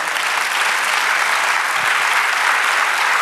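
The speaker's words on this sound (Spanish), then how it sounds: "Dame un aplauso al Señor." A church congregation applauds at a Spanish-language sermon, dense sustained clapping filling the room from start to finish with little other sound.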